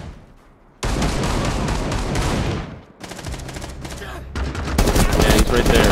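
Rapid gunfire bursts in the shooter game Rainbow Six Siege on the Hereford map, loud dense volleys starting after a brief quiet, pausing around three seconds, then resuming with heavier continuous fire.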